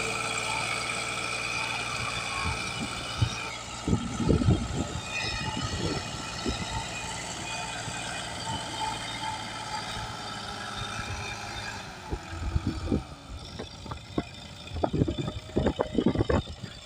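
Massey Ferguson 260 and 385 tractors pulling in a contest, engines droning steadily at a distance with surging rumbles and clattering bursts, while a crowd chatters and shouts nearby.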